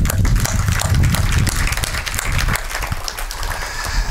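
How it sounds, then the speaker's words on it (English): An audience at the official opening of the WRC Safari Rally project headquarters claps for new board members, loud close applause with heavy low rumble that eases slightly partway through but keeps going. "So can we really clap for them?"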